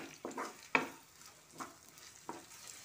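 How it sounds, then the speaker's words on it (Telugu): Mustard seeds, chana dal, urad dal and cumin stirred in hot oil in a frying pan, giving soft sizzling with several distinct scraping stir strokes spaced across a few seconds, close and fairly quiet. "ఆవాలు కొంచెం, పచ్చెనపప్పు కొంచెం, మినపగుళ్ళు కొంచెం అండ్ జీలకర్ర కొంచెం వేసుకొని ఒకసారి తిప్పుకోండి."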